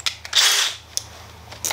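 A short burst of a power drill whirring for about half a second with a number 2 bit, drilling a hole for tapping, with a few small clicks and taps around it.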